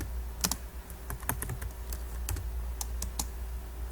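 Close-up typing on a computer keyboard while entering a git commit command, with irregular clusters of quick, crisp key clicks over a faint steady hum.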